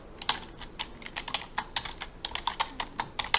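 Quick keystrokes on a computer keyboard as a short English word is typed, a close series of crisp, irregular clicks with no talking.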